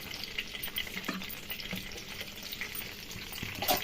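Green chillies, tomato and coriander fry in hot oil in a pan with a soft, steady sizzle and light crackling pops, fairly quiet and close, with faint stirring scrapes.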